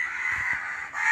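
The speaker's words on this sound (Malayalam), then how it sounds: "പിന്നെ രാവിലെ തന്നെ കാക്കകൾ ഭയങ്കര ബഹളമാണ്" Crows caw noisily in the early morning around a Kerala farm plot with banana plants and papaya, a harsh continuous cawing chorus close by with no talk.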